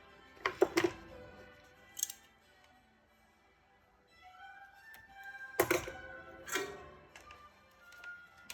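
Scissors snip heat shrink tubing into two lengths at a workbench during an amplifier head build: several crisp close clicks and cuts in two clusters, with quiet handling noises and faint tones between them.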